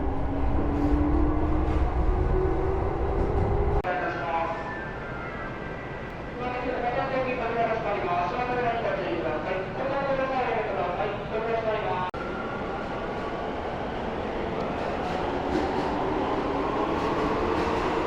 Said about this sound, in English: I think my train's coming.